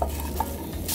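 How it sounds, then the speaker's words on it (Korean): Onions for Korean tteokgalbi are stirred in a hot pan over high heat, making a steady hiss of frying with brief scraping clicks. The moment is short and has no talk. "이렇게 양파를 볶아서"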